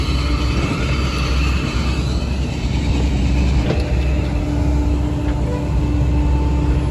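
A loud, steady remapped diesel truck engine drones close by at an earth-loading site, with a heavy low rumble holding a constant roar throughout.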